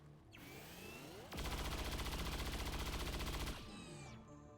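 XCOM 2 Long War of the Chosen gunfire rattles out as a rapid, loud automatic burst lasting about two seconds, framed by whirring mechanical game effects before and after.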